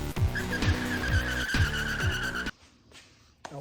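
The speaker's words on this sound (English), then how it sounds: "Full speed. Burnout." A truck engine roars at full throttle with tires squealing and skidding in a burnout, then cuts off abruptly into quiet.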